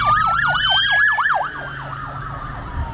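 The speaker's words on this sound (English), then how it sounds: "here come more police now." A police siren wails close by in a rapid rising-and-falling sweep, then fades somewhat as the vehicle passes slow-moving traffic, with traffic rumbling underneath, heard from inside a 2019 Silverado Z71 Duramax.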